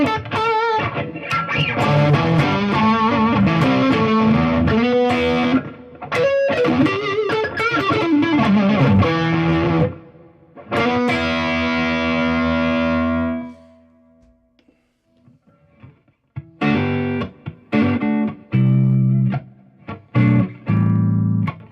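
Electric guitar with a tweed-style tone run through reverb and delay pedals, played in loud sustained chordal phrases that break off into a ringing decay and a near-silent pause, then return as shorter choppy bursts.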